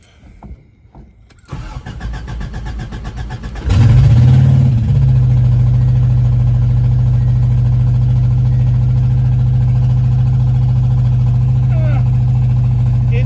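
A car engine with a newly repaired exhaust turns over and starts, then settles into a steady, loud idle with a low, even rumble that continues to the end.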